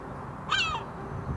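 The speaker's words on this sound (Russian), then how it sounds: "Чайки нервничают." Gulls on a city rooftop in Saint Petersburg give one short, harsh cawing call that stands out midway over steady outdoor background noise.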